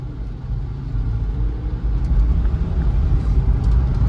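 A SsangYong Rexton SUV accelerates hard from 0 to 100, a steady low engine rumble building in loudness with road noise, heard from inside the cabin.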